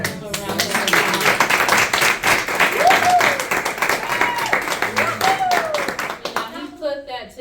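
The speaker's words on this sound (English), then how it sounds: "give him a round of applause?" An audience bursts into applause, dense clapping from many hands that swells and holds for several seconds before tapering off, with a few voices and cheers mixed in.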